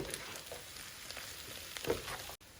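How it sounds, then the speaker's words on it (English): Taro, Chinese sausage and dried shrimp stir-fried in a pan, giving a low steady sizzle with soft scraping stirs and a brief louder clatter near the end, heard alone without talk. "Pan fried taros. And the Chinese sausage. And then stir."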